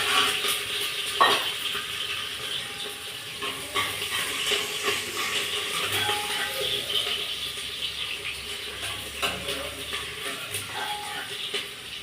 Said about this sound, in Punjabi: ਆਪਾਂ ਹੁਣ ਸਬਜ਼ੀ ਨੂੰ ਤੜਕਾ ਲਾ ਲਈਏ